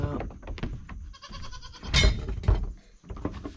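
Goats on a farm bleat repeatedly at close range, about to start fighting, with a louder cry in the middle and dull thumps of bodies or a gate mixed in.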